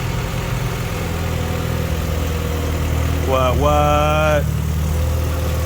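A 1990 Honda engine with a DNA header idles on its first startup, giving a steady, loud, low rumble throughout while a voice speaks briefly partway through.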